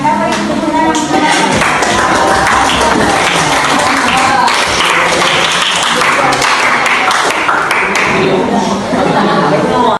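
Applause from students in an Indonesian school classroom fills the whole stretch, a steady, dense wash of clapping mixed with voices and chatter throughout.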